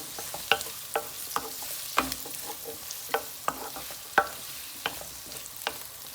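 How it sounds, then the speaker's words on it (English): Carrots and peppers for pineapple prawn fried rice frying in a pan, a soft continuous sizzle broken by regular sharp spatula knocks and scrapes, no voices. "Fry 2 minutes."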